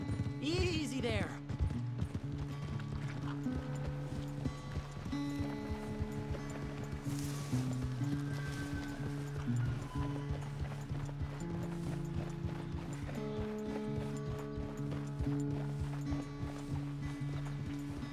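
Horse hooves clip-clop at a steady walking pace in the video game Red Dead Redemption 2. The footfalls are close and continuous, set against game music and ambient tones.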